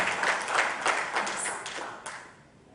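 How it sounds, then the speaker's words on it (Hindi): Audience applause at a televised Hindi show event for the Sony TV series Peshwa Baji Rao, a dense wash of clapping that swells early and gradually fades out over a few seconds. "एक बार जोरदार तालियां"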